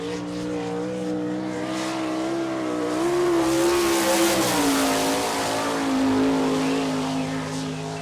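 A sprint car on a qualifying lap at I-96 Speedway, Lake Odessa, Michigan, sustains a loud, high-pitched engine howl whose pitch rises and falls through the turns, with tire noise over the roar.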